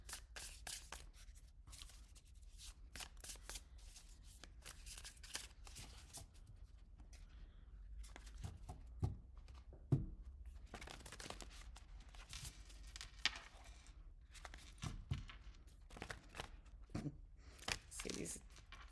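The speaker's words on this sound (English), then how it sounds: "this particular deck is not getting easier to shuffle as the days go by" Papery riffling and snapping of a tarot deck being shuffled in bursts, close up, with brief pauses between shuffles and no talking.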